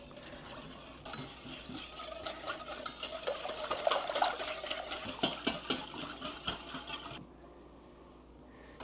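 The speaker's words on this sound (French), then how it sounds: "Ça dit remuer, mais moi, je vais fouetter." A whisk beats spiced pumpkin syrup in a pot, producing rapid rhythmic clinking and swishing up close for several seconds before stopping abruptly, leaving quiet room tone.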